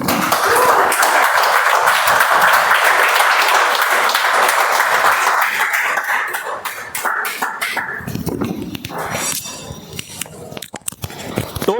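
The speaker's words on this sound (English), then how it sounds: "Please help me welcome with huge round of applause Toastmaster Senthil onto the stage, please." An audience at a Toastmasters meeting applauds loudly for several seconds, the clapping then thinning into scattered claps, coughs and shuffling.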